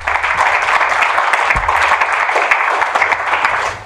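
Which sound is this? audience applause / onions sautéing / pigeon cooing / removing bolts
audience applause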